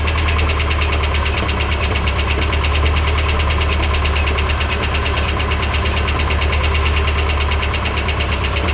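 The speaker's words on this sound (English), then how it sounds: "That sounds like a Cummins turbo diesel." A Cummins turbo diesel engine running steadily nearby, a loud, constant low rumble with a rattling, knocking clatter over it and no voices.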